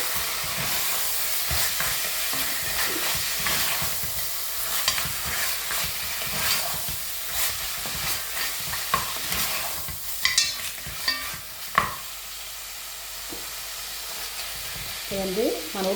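Mutton kothu frying in a pan: a continuous loud sizzle with scraping and occasional metallic clanks as the meat is mixed in, heard close up throughout.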